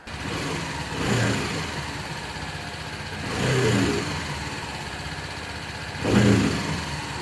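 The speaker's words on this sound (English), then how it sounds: "We gotta let the engine run again" A BMW G310GS motorcycle engine idles steadily nearby after an oil and filter change, rising in three brief revs spaced a few seconds apart.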